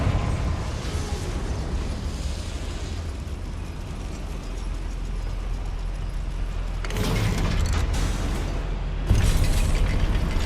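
Confringo spell explosions in the Hogwarts Legacy video game, set inside a goblin mine, burst out as two loud blasts a couple of seconds apart over a steady rumbling game ambience.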